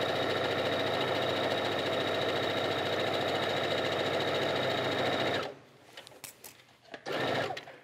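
Sewing machine stitching through upcycled felted wool, a steady loud mechanical whir for about five seconds that stops abruptly, followed by faint handling noises and a brief resumed burst.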